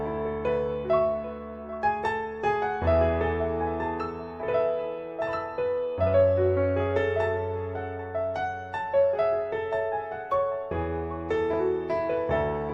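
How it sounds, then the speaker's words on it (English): A melodic piano loop played solo on the Alicia's Keys virtual piano in Kontakt, written as a dark, sad trap-style loop: sustained chords with bass notes and repeating higher melodic phrases, steady and full throughout with no voices. "the first sound we started with was this piano"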